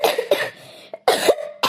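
An elderly woman coughs in short, harsh bursts close to the microphone, three or four racking coughs separated by brief gasps of breath.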